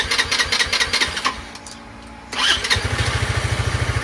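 Cheap Chinese-made motorcycle engine settling into a steady, rapid idle after an idle-screw adjustment, preceded by a few bursts of revving and a brief lull; close and fairly loud, no talking.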